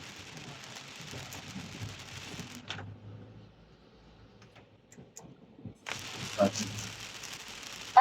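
Heavy rain pours in Dubai, heard from inside a vehicle as a steady hiss that drops out for a few seconds and then returns loudly, with a few soft knocks and faint background voices.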